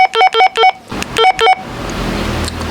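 A portable radio used as a budget repeater sends its PTT ID tone: two quick runs of clear electronic beeps, four then two, loud and close, followed by a hiss of static.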